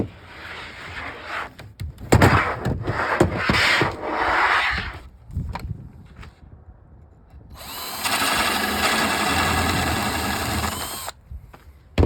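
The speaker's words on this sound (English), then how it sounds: "then I'll flip it over and finish drilling it" A power drill bores through wood during the restoration of a Journey arcade cabinet, with close, loud grinding bursts and rubbing, a pause, then a long steady high-speed whir.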